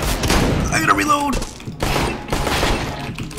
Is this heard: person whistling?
no